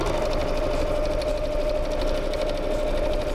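A sewing machine runs steadily, stitching along both sides of a fabric bag in a continuous, even drone with a fine rapid needle patter, close and alone.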